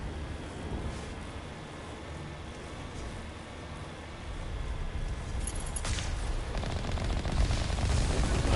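Gunfire from the video game Lotus Effect, a rapid, continuous rattling burst that builds louder over the second half against a muffled rumbling background.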